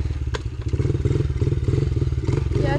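Dirt bike engine running steadily on a rocky trail, a loud continuous low drone with rhythmic pulsing and occasional clatter and thumps from the ground, heard up close throughout.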